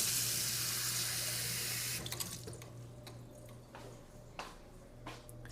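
Kitchen tap pours water into a measuring cup for lemony white bean and potato soup, a steady hiss for two seconds that then stops, followed by quiet drips and soft kitchen clatter.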